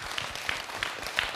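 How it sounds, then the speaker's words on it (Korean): An audience at a Buddhist monk's question-and-answer talk claps briefly, a short burst of rhythmic hand claps that is moderately loud and alone. "박수"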